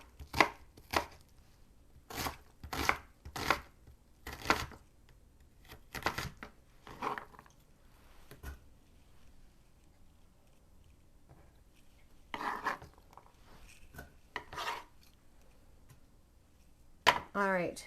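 A knife chopping peppers and onion on a cutting board, crisp close knocks in quick bursts of two to four cuts separated by pauses, with a final flurry at the end and no voice over them.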